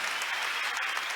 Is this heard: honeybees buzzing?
no